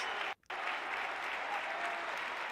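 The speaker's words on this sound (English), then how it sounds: "Or the ironic applause." Ironic applause from spectators at a women's EuroLeague basketball game rolls on as a steady, even wash of clapping across the arena, broken once by a short gap near the start.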